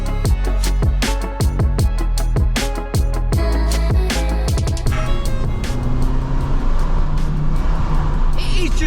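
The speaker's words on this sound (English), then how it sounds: "let's give it a little rev." A Fiat Punto engine revs up close, its rough pulsing idle climbing into a loud, steady higher-pitched drone.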